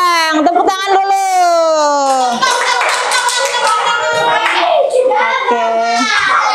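Children in a classroom clap their hands for a group, with sharp claps scattered under loud, high children's voices and chatter.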